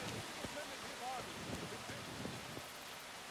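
Steady rain pours in a stormy outdoor scene in the medieval video game Kingdom Come: Deliverance, a constant dense hiss with faint scattered drops and low rumbles underneath, heard at moderate level with no talk over it.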